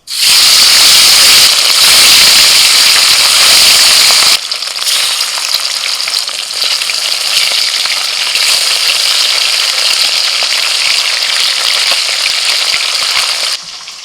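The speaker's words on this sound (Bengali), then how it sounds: "তেল খুব ভালো করে গরম করে নিয়ে এবার মাছ ছেড়ে দিচ্ছি।" Loud, intense sizzling of fish dropped into hot oil, a bright crackling hiss that stays strong and continuous before cutting off.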